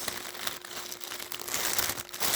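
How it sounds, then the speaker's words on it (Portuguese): Packaging and wrapping material crinkling continuously up close, a dense rustling crackle with small crunchy peaks throughout. "Vou acabar de embalar aqui as outras."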